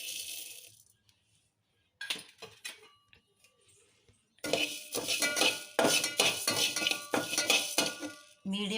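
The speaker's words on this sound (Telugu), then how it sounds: "మీడియం ఫ్లేమ్లో పెట్టుకొని వేయించుకోవాలి." Whole spices such as bay leaf, cloves, dried red chilies and coriander seeds dry roast in a pan over medium flame, rattling and clinking in quick scattered bursts, quiet at first, then louder and busier as they are tossed.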